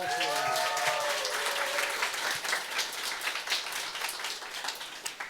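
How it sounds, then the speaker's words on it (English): Applause from an audience at a university matriculation ceremony, steady clapping throughout, with a voice speaking over the opening moments. "One more round of applause."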